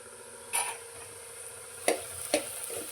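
Ivy gourd (dondakaya) fries in a pan with a steady, low sizzle, and a few sharp clinks and scrapes sound as it is stirred.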